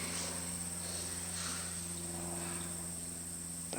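Steady, shrill insect buzzing holds at an even level throughout, a constant high-pitched drone like cicadas with a low hum beneath.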